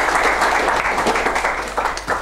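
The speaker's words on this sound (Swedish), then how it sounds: "En applåd till, tycker jag." Audience applause for two presenters at a Swedish energy conference session on waste heat, steady dense clapping throughout, fairly close and moderately loud.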